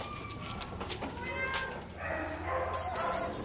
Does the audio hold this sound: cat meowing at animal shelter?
yes